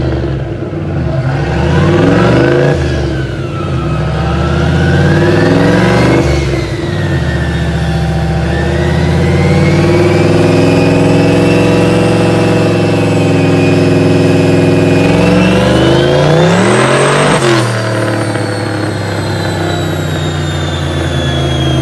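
A 950 horsepower Fox body car engine revs loud and close, its deep idle climbing through long, rising throttle sweeps and falling back, ending in a sharp high-pitched surge.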